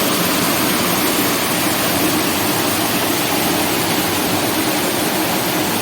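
Rushing river water roars steadily and loudly throughout, a dense unbroken wash while fish are being caught in the flowing current.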